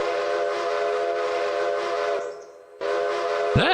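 A steam locomotive whistle from the railroad game Railroader, a loud sustained tonal blast that breaks off briefly and then sounds again, with no talking over it.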